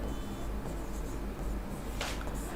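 Chalk or pen writes on a board during a classroom lecture, a faint scratchy stroke under room hiss with a brief sharper scrape near the end.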